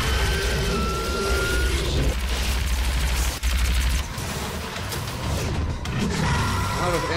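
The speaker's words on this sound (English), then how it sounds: "Plasma rifle." Plasma rifle fire in DOOM, a dense, loud run of rapid energy shots over a steady low game rumble, broken by a brief gap and then a second burst.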